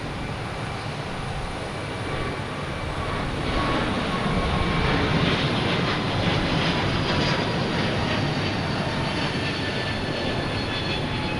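An airliner taking off at Boston Logan Airport gives a broad, steady engine roar from a distance, swelling slightly and holding for the whole stretch, with no voices.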